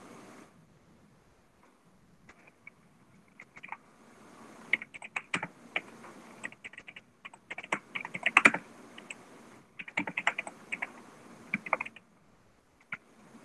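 Someone types on a computer keyboard in irregular bursts of close, crisp keystrokes, with short pauses between runs and no talking.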